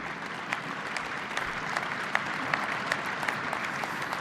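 An audience at a European People's Party gathering applauds for Alexander Stubb, continuous even clapping from a large crowd, moderately loud and sustained from start to finish.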